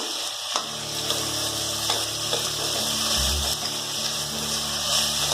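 Ginger garlic paste and finely chopped onion frying in half a cup of hot oil in a pan for methi rice, giving a steady close sizzle with a low hum underneath and no talking.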